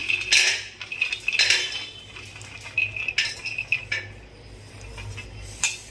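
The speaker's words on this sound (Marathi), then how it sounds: "आता आपण शेंगदाणे खोबरं आणि तीळ भाजून घेऊया" Peanuts, grated coconut and sesame seeds dry-roasting in a metal pan, with intermittent metallic scrapes and clinks of a spoon against the pan in uneven bursts, close by and without talk.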